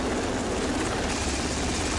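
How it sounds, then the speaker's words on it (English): An anti-submarine helicopter operates at the landing pad of a destroyer fitted with LAMPS Mark III electronics, its rotor and engine making a loud, steady wash of noise at close range. "The helicopter is a significant addition to the combat capabilities of a modern destroyer."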